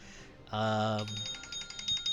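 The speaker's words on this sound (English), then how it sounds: "Shut the fuck up, alarm." A game-session alarm going off in short bursts: a loud harmonic buzzing tone for about half a second, then rapid repeated high beeps to the end, with voices talking underneath.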